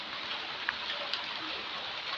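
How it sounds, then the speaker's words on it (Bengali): Steady light rain falls throughout as a continuous soft hiss, with a couple of faint brief drip-like ticks standing out. "সেই সকাল থেকে টিপ টিপ টিপ টিপ বৃষ্টি পড়েই চলেছে"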